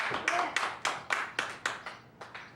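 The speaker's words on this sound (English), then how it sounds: "Let's give Him a hand clap of praise" A church congregation clapping in praise, a series of about nine distinct, evenly spaced claps in a slow rhythm, fairly soft and slightly reverberant, with a faint voice at the start.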